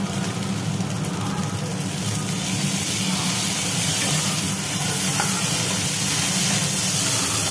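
Vegetable stalks and onion frying with ground cumin and ginger paste while being stirred, a steady, broad hiss of sizzling oil that runs without a break at close range.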